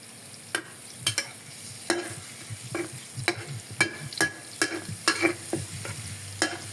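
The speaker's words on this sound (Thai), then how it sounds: "เจียวกระเทียมให้ร้อนก่อนนะคะ" Garlic fries in a hot pan for a simple vegetarian Thai egg fried rice, with a steady sizzle broken by scraping stirs of a spatula against the pan, close and fairly clear.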